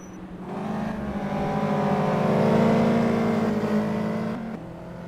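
Caterham race cars on the straight in the Simraceway racing game, a steady engine drone rising and swelling as the cars hold side by side, then dropping off near the end.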